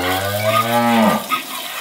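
A cow moos loudly once, a long, deep bellow lasting about a second, close by, followed by quiet background noise on a farm making cheese.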